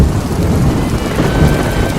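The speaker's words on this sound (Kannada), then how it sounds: "ಯಾಕೋ ಮಳೆ ಅಬ್ಬರ ಜಾಸ್ತಿ ಆಗ್ತಿದೆ ಅನ್ಸತ್ತೆ." Heavy rain pours down with deep thunder rumbling underneath, a loud, dense and unbroken roar, close and constant, with no voices.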